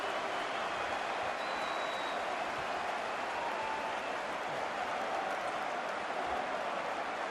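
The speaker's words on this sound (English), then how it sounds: "cheering the fans" Stadium crowd roaring in a steady, dense wall of noise after a goal in a Manchester City versus Liverpool football match, sustained at even loudness throughout with no clear breaks.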